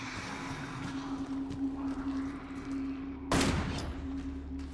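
A single sharp gunshot cracks out in Resident Evil 7, sudden and loud against a steady low electrical hum and quiet game ambience.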